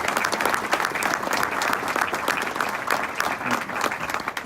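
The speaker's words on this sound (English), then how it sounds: "give me a round of applause for them for their hard work and their efforts today" A room full of breakfast-event attendees applauds steadily, a dense, even wash of clapping that holds at full strength throughout with no voices rising above it.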